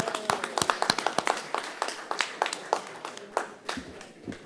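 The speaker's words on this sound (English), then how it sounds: "Applause for those." Audience at a conference on INSPIRE monitoring and reporting applauding, a thin, scattered patter of handclaps from a modest crowd, uneven and fading over a few seconds.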